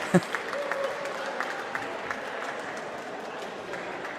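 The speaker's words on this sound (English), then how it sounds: "he gets great applause from the crowd" Crowd applauding a climber at a U19 bouldering qualification competition, a steady wash of clapping from a sizeable audience with a commentator's voice faintly over it.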